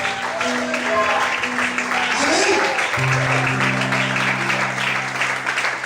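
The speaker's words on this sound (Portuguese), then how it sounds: "Você pode aplaudir o Senhor por isso?" A church congregation applauding the Lord during a sermon, continuous dense clapping with a preacher talking over it and sustained musical tones underneath.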